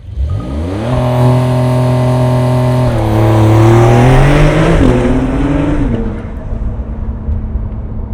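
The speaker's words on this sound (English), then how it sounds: "So, but either way, all right, let's do PSM Sport." Porsche 911 launching hard from a standstill with launch control in PSM Sport mode: a loud, close engine holds high revs, then climbs through rising gear-change pitch sweeps before easing off.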